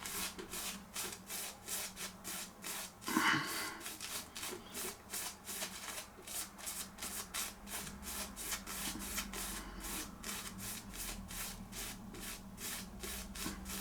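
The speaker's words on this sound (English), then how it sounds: "first time shaving with Torrey" A J R Torrey straight razor scrapes across stubble in a fast, regular series of short rasping strokes, close and clear, with one louder scrape early on and no talking.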